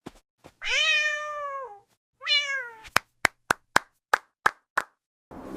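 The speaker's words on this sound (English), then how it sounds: "Look at Snowy, the cat" A cat meows twice, long and clear and close, followed by a quick run of sharp claps or knocks.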